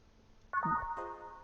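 A phone ringing in the video game VA11 Hall-A: a short electronic ringtone with a bright chirping tone, fairly quiet, heard alone.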